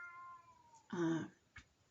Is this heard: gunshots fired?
no